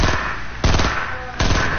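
Two sharp bursts of video-game gunfire, a burst-fire weapon shooting through a wall in a 50 vs 50 match; each burst is loud and close, with a steady hiss of game ambience between them.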